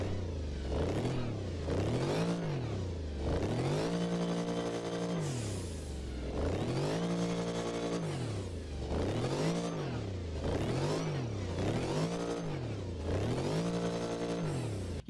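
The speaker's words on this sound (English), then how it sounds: "They legit kill the engine sounds in Motorfest, man." Hyperion XP-1 hydrogen-electric car in the racing game Motorfest, its engine revving repeatedly in smooth rising and falling sweeps, a clean whirring mechanical tone looping up and down in steady cycles, loud and unaccompanied by talk.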